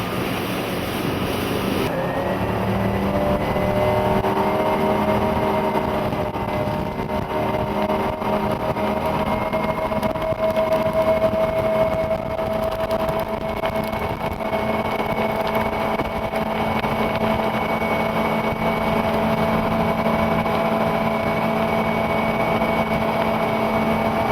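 A boat's twin remanufactured Mercury Marine engines roar steadily under full throttle, a continuous loud drone with rising engine tones holding for the whole stretch after a brief lower start.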